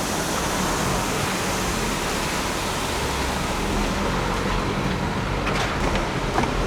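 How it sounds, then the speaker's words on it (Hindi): A large mountain waterfall at Sach Pass roars as a dense, steady, broadband rush of water, loud and constant throughout with no talking. "और ये अब तक का सबसे बड़ा वाटरफॉल है हमारी क्रॉसिंग में"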